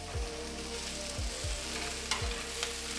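Brussels sprouts sizzle and crackle steadily in a hot frying pan, with a few soft thumps and scrapes as they are tossed around, close and continuous with no talking.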